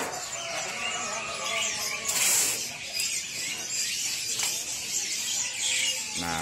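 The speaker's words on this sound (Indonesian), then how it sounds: "Ini kenari AF-nya benar-benar gede-gede ya" Canaries (kenari AF) at a bird market chirp and twitter in a dense, high-pitched chorus with a brief louder burst, mixed with market bustle and some voices.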